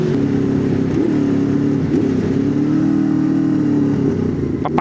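A motorcycle engine runs loud and steady, close by, with its pitch rising and falling slightly through mild revs and no talking.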